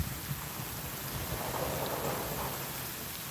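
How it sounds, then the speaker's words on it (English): Steady rain falls during an outing fly fishing for carp, a dense, even hiss of drops that holds at the same level from start to finish with no voices. "Yeah, it's raining."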